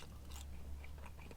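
Faint, close crunching bites into crunchy battered chips with chicken salt, a couple of brittle crackles over a quiet low hum.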